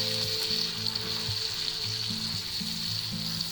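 Butter melting in a pan with a teaspoon of minced garlic, cooking before a ribeye steak; a steady, close hiss and sizzle runs throughout, alone, with faint low clunks from the pan.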